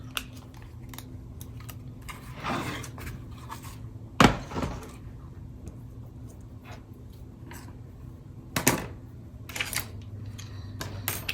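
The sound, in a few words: popping die-cut card pieces out of a sheet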